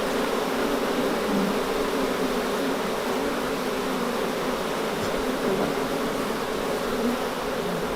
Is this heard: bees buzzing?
yes